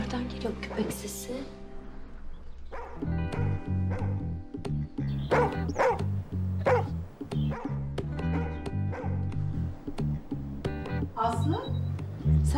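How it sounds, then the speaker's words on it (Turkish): A dog barks repeatedly, sharp yips and woofs in quick bursts, fairly close, over a low background drone. "Nereden geliyor köpek sesi?"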